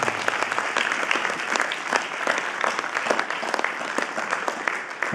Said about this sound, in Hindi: मैं चाहूंगा उनके लिए आप जोरदार तालियां